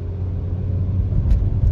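A Maruti Brezza ZXi+ with automatic transmission rumbles as the engine revs under acceleration, a low steady drone heard from inside the cabin, fairly loud with no voices.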